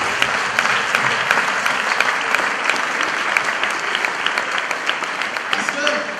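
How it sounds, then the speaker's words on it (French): A church congregation breaks into loud, sustained applause for the Lord during a sermon in Orléans, dense clapping filling the room evenly from start to finish. "On acclame le Seigneur pour sa parole."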